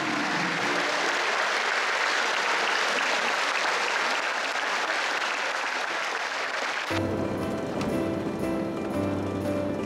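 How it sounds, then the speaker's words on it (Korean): An audience in Pyongyang, North Korea, claps for a children's performance: dense, steady applause fills most of the clip, then stops abruptly as music takes over. "북한 어린이들의 잔망스러운 공연에 관객들이 박수로 화답한다."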